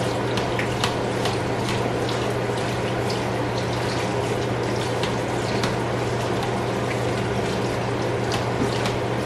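Cooked noodles rinsed with water from a cup, a steady continuous rush and trickle of running water held at an even level throughout, with no talk over it.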